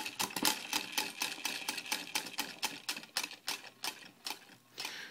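A Kamen Rider OOO Kujaku Candroid peacock toy spins with a rapid, regular clicking and ticking, loud and close, the clicks slowing and spacing out toward the end with no voices over them.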